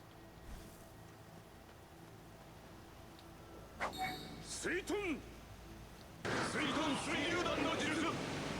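Water dragon technique spell in Skyrim, a rising whoosh and warbling magical effect that gives way to a loud sustained rushing, splashing roar of water, preceded by quieter game ambience.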